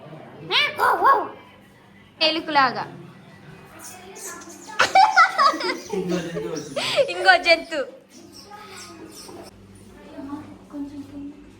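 A child chatters and calls out while a dog barks a few times nearby, mixed in with lively voices and chuckling, at a family half-saree ceremony.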